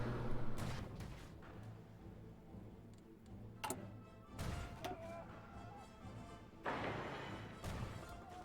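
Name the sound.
aerial bombing in video game Hearts of Iron IV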